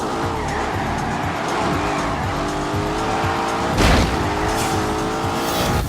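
A racing car lapping a track in The Grand Tour video game, its engine droning loud and steady as it shifts pitch, with a sharp squeal of tires near the middle and no voices.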